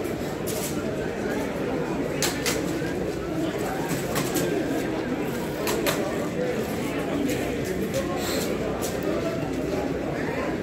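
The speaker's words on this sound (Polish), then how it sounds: "Jest gołębi, panowie." Pigeons at an outdoor bird market in Nowy Dwór Mazowiecki give soft, continuous cooing beneath a dense crowd murmur, with people talking nearby and occasional sharp clicks and flutters.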